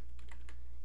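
Computer keyboard keys tapped while typing in Notepad on a Windows XP PC, a brief close run of a few crisp clicks over steady background hum.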